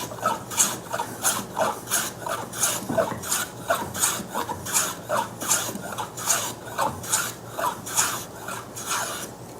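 A blade shearing across the back side of a wooden board while shaping it, producing repeated raspy scraping strokes in a steady rhythm, close and clear, about sixteen passes with no talking.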